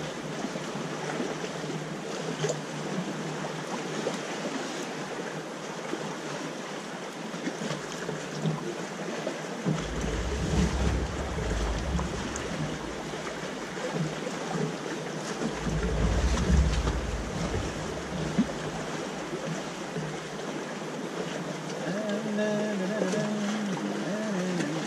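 A sailboat under way in choppy water under sunshine, with steady wind buffeting the microphone and low rumbling wave slaps against the hull swelling in the middle, continuous and close.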